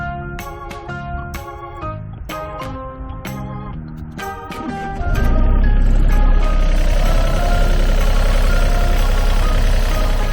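A Yanmar diesel engine on a Hitachi ZX35 excavator starts up and runs steadily at a loud, even rumble, after some clanking and beeping at the start, with no voices.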